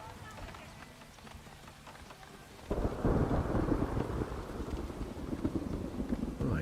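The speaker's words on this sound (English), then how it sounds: "Oh, I hear a thunderstorm." A thunderstorm in the game Farthest Frontier, a soft rainy hiss that breaks into a loud, sustained rumble of thunder with heavy rain continuing beneath it.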